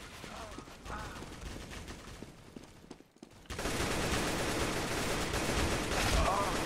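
AK rifle gunfire in the Roblox game Counter Blox comes as dense, continuous bursts of shots under a steady wash of noise, louder and fuller in the second half after a brief drop.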